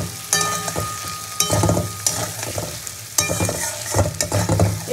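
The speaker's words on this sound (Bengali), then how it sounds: "এবার আমি ভেজে রাখা পটলটা এর মধ্যে দিয়ে কষাবো" Fried potol (pointed gourd) being stirred through a spiced masala in a pan: steady close sizzling and frying hiss with repeated scraping strokes of a spatula against the pan, no voices.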